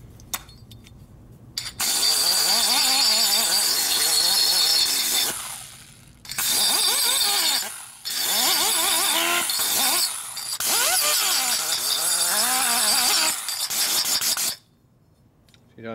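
A grinder works on a rusty part of a 1958 Harley panhead 74ci engine in several loud bursts of harsh rasping, with short quiet pauses between passes.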